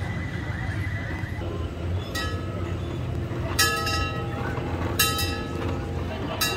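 Horse at an amusement park, several loud whinnies rising over a steady rumbling background with clip-clop of hooves and busy ambient noise.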